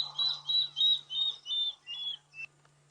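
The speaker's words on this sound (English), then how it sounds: "So that's another bird you might hear at night, the water thickney." A recorded water thick-knee call plays at night on safari: about seven shrill whistled notes, evenly spaced, that slowly drop in pitch and fade. A steady low engine hum runs underneath.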